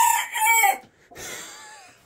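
A rooster crows twice in quick succession, loud and close, with a short pause between the calls.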